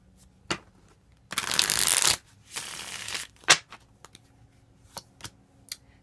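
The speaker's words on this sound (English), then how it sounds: "One more shuffle." Tarot cards riffle in two quick shuffling bursts, surrounded by soft taps and clicks as the deck is squared and handled, close and fairly quiet.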